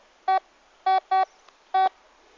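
Four sharp electronic tonal beeps from a metal detector passing over a buried target in the ground, the middle two close together, loud and clean against near silence.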